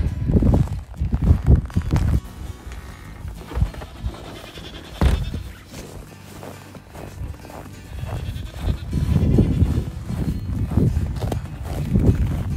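Goats bleat in short, repeated calls, some near and some further off, with shuffling footsteps and rustling between them.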